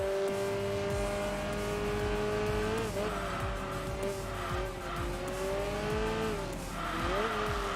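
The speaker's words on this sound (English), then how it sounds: "this thing with the stage 2 engine upgrades, this sounds really good" A car with stage 2 engine upgrades in the Enthusia Professional Racing game roars steadily at high revs, pitch dipping and climbing through gear changes, loud and continuous with tire noise underneath.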